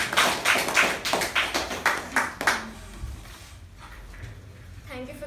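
Applause at a Toastmasters club meeting: a few seconds of scattered, fairly sparse clapping from a small group, fading out quickly into quiet room tone before a voice begins.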